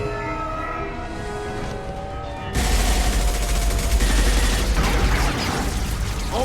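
Gunfire in the video game Mass Effect 2 breaks out as a sudden, dense, sustained barrage after a quieter, humming stretch of game ambience, then stays loud and continuous.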